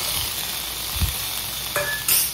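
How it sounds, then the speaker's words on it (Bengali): Tomatoes frying in a pan for a vegetarian biryani made without onion or garlic: a steady close sizzle with a few light clinks of a utensil against the pan, no talking. "তো টমেটোটা দিয়ে নিয়েছি, এবার ভালো করে ভাজা ভাজা করে নিই"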